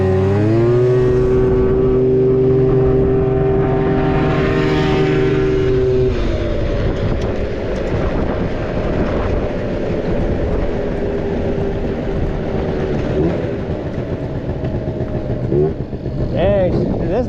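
Big bore Yamaha Zuma and Honda Elite S scooters racing: a loud, steady engine roar close to the microphone. The start is dominated by a strong high-pitched drone, then rough revving engine noise continues, with a voice briefly heard near the end.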